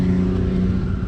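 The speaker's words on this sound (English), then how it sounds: "Ooh, that diesel pusher's got an exhaust on it." A diesel pusher motorhome's exhaust drones loud and near, a steady low rumble with a sustained engine hum and no speech.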